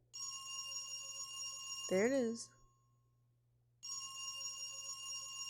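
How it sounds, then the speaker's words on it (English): An old telephone rings in the horror video game Dread Weight, a bright electronic trill repeating close and steady, broken by someone speaking briefly and then a pause of silence before it resumes. "The ringing echoes down the hallway."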